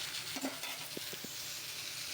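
Chili, salt and turmeric being sautéed in a pan for an egg and eggplant curry give a faint, steady sizzle with a few soft stirring taps, heard close and without voices.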